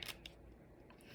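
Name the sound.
cutting a snake plant (Sansevieria) leaf into pieces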